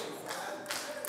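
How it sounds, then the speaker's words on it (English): Someone in the congregation at a church sermon in South Africa claps a few scattered times, the soft claps sounding distant against the room's ambience. "someone is clapping"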